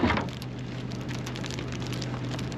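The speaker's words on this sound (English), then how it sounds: "Hear the rain on the filing cabinet." Steady rain patters on a metal filing cabinet outdoors on a rainy day, a dense close hiss of drops that runs on evenly throughout with no voices.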